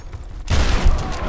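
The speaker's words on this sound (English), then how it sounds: "Okay, shotgun time." Shotgun blast in Tomb Raider (2013), a single loud, close burst that cuts in abruptly after a quiet moment and rings on briefly with a dense, booming tail.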